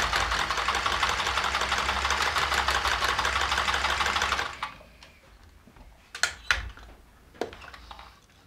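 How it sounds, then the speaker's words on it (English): A sewing machine stitching oilcloth for a homemade tent made from a dust sheet, a loud, fast, steady mechanical whirr for several seconds that stops abruptly, followed by quiet handling clicks and thumps. "I think that's all the sewing."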